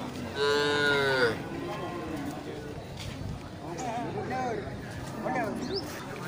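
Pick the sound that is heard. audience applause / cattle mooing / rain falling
cattle mooing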